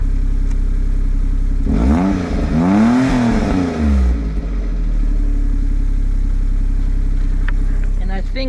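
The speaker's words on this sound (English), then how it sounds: "I just put a new exhaust in too, so let's give it a little rev." A Suzuki Wagon R fitted with a new exhaust is revved once, its engine note climbing and falling over about two seconds before dropping back to a steady idle, heard up close.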